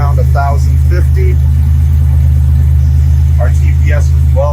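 A Buick Grand National engine idles steadily just after its first startup following a rebuild, a loud, constant low rumble close by, with brief speech heard over it.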